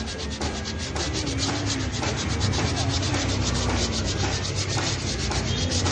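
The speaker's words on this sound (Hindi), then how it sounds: "तो सब लेटर लगाने के बाद ये एक बार से घिसाई करते हैं, इसको साफ़ करते हैं" A wooden nameplate with letters fixed to it is sanded by hand, a loud, close, continuous scratchy rubbing with rhythmic back-and-forth strokes throughout.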